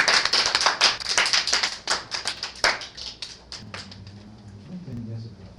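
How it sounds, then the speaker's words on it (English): Church congregation claps in praise, a burst of rapid, overlapping handclaps that thins into scattered claps and then stops, with voices rising in the background toward the end. "Come on, give the Father a hand clap of praise."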